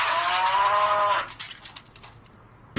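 A loud cow moo ringtone stretches for about a second, then trails off into scattered clicks and quiet, ending with a sudden burst of noise.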